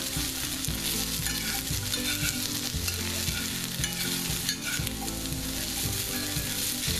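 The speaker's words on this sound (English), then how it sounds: "now that we've been letting these cook for a few minutes, we're going to want to stir them up" Country-style potatoes frying in a pan give a steady, close sizzle and crackle, with scraping and clatter as they are stirred around, and no one talking.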